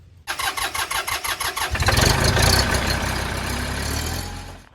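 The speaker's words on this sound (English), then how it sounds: "We're gonna go start the tractor up right now" A Mahindra tractor with a backhoe attachment starting up: about ten rhythmic starter cranks, then the diesel engine catches with a loud roar and settles into a steady rumbling idle, close and with no talk.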